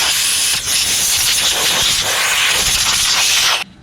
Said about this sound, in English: let's give her another squirt with the air.